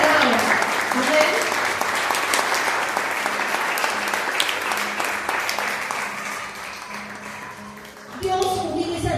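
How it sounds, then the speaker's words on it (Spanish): Church congregation applauding during a sermon, a dense wash of sustained clapping that holds steady for most of the stretch, with a voice briefly audible near the end. "Dale un aplauso al Señor"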